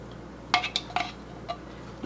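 Utensil scraping contents out of a can into a crockpot for a cheesy chicken broccoli and rice casserole, a few sharp metallic clinks and scrapes in quick succession, close and fairly quiet.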